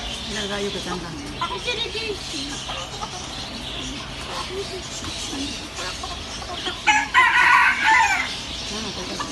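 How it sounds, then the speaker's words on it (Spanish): A rooster crows loudly and close by among caged birds at a flea market, one clear crow standing out near the end over steady background chatter and people talking. "mira el gallo que canta."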